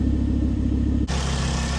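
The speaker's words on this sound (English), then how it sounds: "I'll give it some revs." A Volvo C30 with a catless downpipe idles with a deep, throbbing rumble, then its revs rise sharply into a louder, raspier drone, heard up close.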